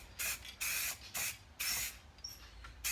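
Tamiya spray paint can lightly fogging paint onto a model, heard as six short hissing bursts in an uneven rhythm with brief pauses between, close and clear.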